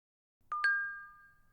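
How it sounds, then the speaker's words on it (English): A message notification chime in a visual novel game: two quick bright ding tones in succession, ringing out clearly and decaying slowly over a quiet background. "The silence is broken by a ringing chime signaling that a new message has arrived."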